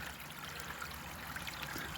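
A small brook trickles off a hillside at a winter campsite, a faint, steady bubbling flow close by with soft gurgles and no voices.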